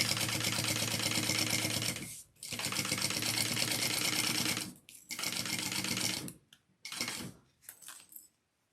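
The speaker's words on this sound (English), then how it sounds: "I'm just gonna sew down and top stitch just down to here" A sewing machine runs in fast, close bursts while stitching a handbag, starting and stopping several times with short pauses between runs.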